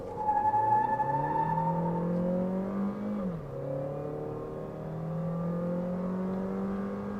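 A Jeep Renegade 1.3 Turbo accelerating hard from 0 to 100 km/h with stability control off, its engine note climbing steadily, dropping briefly at a gear change, then rising again, heard from inside the car with no talk.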